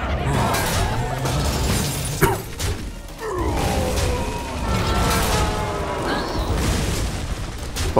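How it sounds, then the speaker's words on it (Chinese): Explosion effects in the video game Hearthstone Battlegrounds, several booming crashes and shattering bursts mixed with game sounds and music, loud and close throughout. "爆炸"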